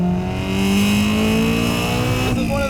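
A Honda-swapped 1980s Toyota AE86 Trueno with a high-revving, naturally aspirated engine screams loud and close, its pitch climbing steadily through a long sustained pull before a brief shift-like change near the end, with a faint voice underneath.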